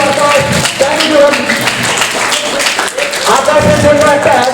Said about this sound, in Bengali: Can we give a big hand to Kushan, please?